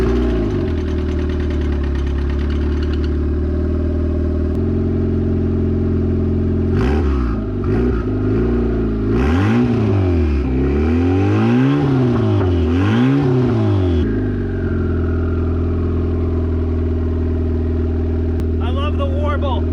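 A turbocharged 2-liter Nissan SR20 four-cylinder idles loudly up close, then revs repeatedly in rising and falling sweeps before settling back to a steady idle.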